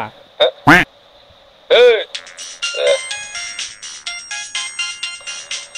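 A phone's incoming-call ringtone in a Telugu short film plays as a bright, repeating electronic melody of quick tonal beeps. A few short vocal sounds come just before it starts.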